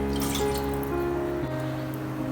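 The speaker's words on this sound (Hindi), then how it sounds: "हाफ़ कप में ले रही हूँ पानी" Half a cup of water is poured into a pan for making tea, giving a steady trickling pour with faint tonal ringing from the pan, close and continuous.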